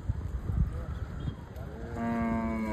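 A cow used to block a road in flooded Titwala town lets out a loud, sustained moo near the end, over background street noise and rumble.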